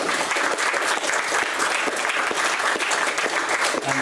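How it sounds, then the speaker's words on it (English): An audience at a Labour Movement history panel event applauds steadily, a loud, dense wash of many hands clapping close by that carries through without any talk. "just a round of applause"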